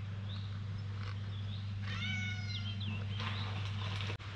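A house cat meows a few times nearby in a workshop where car wheel rims are being refurbished, the meows rising over a steady low electrical hum.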